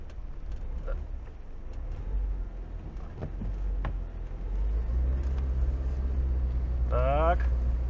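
A Lada Niva 4x4 on mud tyres with self-locking differentials labours in mud in low gear. Its engine drones in a deep steady rumble that swells into a rising rev near the end as the wheels spin, with voices talking over it.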